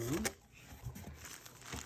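Close crinkling and rustling of a plastic bag being handled, with short crackly bursts and quieter scrunching in between.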